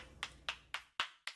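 Five slow, evenly spaced claps in a Steins;Gate 0 video game scene, each a sharp distinct hit with a short decay, moderately close and with no voices over them.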